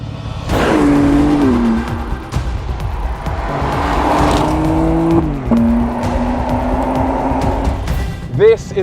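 A sixth-generation BMW M3 sports car engine revs loudly and climbs through the gears with sharp pitch changes, then a brief high squeal near the end.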